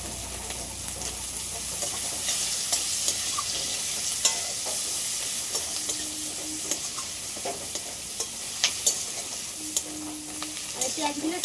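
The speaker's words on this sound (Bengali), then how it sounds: "পেঁয়াজগুলো একটু হালকা করে ভেজে নেবো, বেশি কড়া করে ভাজবো না।" Sliced onions sizzle steadily in prawn-frying oil seasoned with bay leaf, dried chili and five-spice, with repeated stirring scrapes and clinks of a spatula against the pan.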